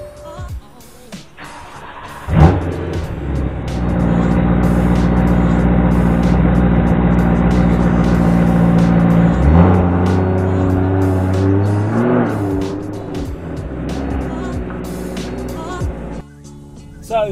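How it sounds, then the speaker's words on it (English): BMW E93 M3 with a stop-start system driven down a road: a quiet start, then the engine's steady drone and road noise rising and shifting as it pulls along, easing toward the end where it briefly cuts out. "I've just driven to the end of the road and the stop-start has engaged almost immediately"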